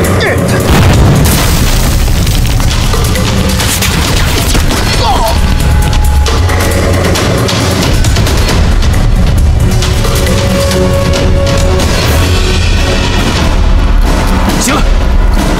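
Gunfire rings out during shooting practice in a war movie, a loud, dense run of repeated booms and cracks over a busy soundtrack, with voices speaking now and then through the shots.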